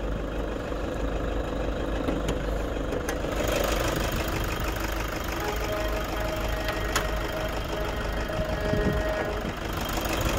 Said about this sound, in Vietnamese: máy dầu nổ thì nó bao giờ nó kêu to hơn máy xăng